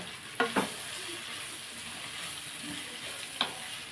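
Curry frying in a pan as coriander powder is stirred in, a steady soft sizzle with a few sharp clinks and scrapes of the spoon against the pan.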